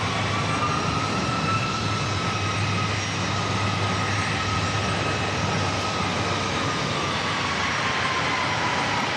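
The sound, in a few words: aircraft rolling down runway 27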